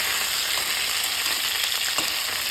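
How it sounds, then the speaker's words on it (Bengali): Fish sizzle steadily in hot oil in a pan, a dense, even crackle of frying with occasional louder spits, heard alone and close. "আর এদিকে দেখো মাছগুলো কিন্তু সুন্দরভাবে ভাজা হয়ে যাচ্ছে"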